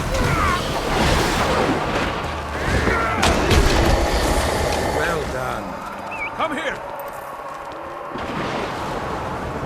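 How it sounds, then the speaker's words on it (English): Cannons fire during a battle in the Guild Wars 2 story campaign, a run of heavy booms and rumbling blasts spread over ten seconds, mixed with voices and other battle noise. "Get those cannons firing."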